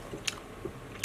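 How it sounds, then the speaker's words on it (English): Pulled pork being chewed and bitten close to the mic, with a few soft wet crunches spaced across a brief moment and no talking. "I didn't have to chew really loud too."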